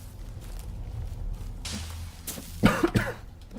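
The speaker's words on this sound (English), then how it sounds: "I'm busy coughing" A few harsh coughs burst out close to the microphone near the end, preceded by low background rumble and faint shuffling.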